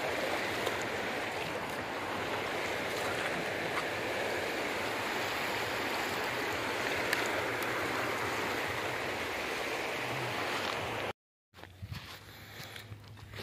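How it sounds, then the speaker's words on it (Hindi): Yamuna river water flows in a steady broadband rush, near and continuous, with the sound cutting out briefly near the end before a quieter outdoor ambience returns. "यमुना नदी तो हम आ गए"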